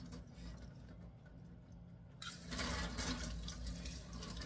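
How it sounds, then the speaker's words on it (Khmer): Water sprays to rinse something clean, starting abruptly halfway through as a steady, fairly loud hissing rush over a low background hum, with no talking. "ខ្ញុំចង់បាញ់ទឹកលាងឲ្យស្អាត"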